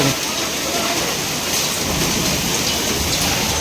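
Dense, heavy downpour with large hail pounding continuously in Botad, Gujarat, a loud broadband roar of rain and hail with no pauses.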